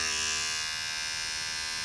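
A premium Philips electric hair clipper runs with a steady high-pitched motor buzz, close and continuous, with no talking.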